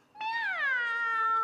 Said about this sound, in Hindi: ये बुलबुल बिल्ली।